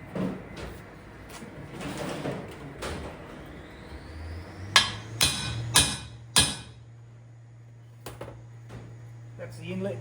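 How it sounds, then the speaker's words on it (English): Valve seats being knocked into a heated cylinder head: four sharp, ringing metallic hammer blows in quick succession, then a couple of lighter taps, over a steady hum with some background talk. "So now we'll knock the seats in."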